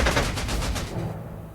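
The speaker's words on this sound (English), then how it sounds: "He's going to fly here, and from there I can strafe these guys." Fighter aircraft strafing ground units in the war game Panzer Corps 2, a short loud burst of rapid machine-gun fire with rhythmic cracks that fades out near the end.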